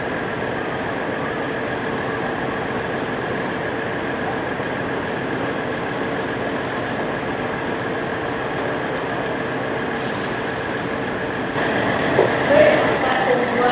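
A Northern Class 158 diesel unit coupled to a Class 153 pulls out of Nottingham station, a steady loud engine rumble and rolling drone with faint squeals rising toward the end.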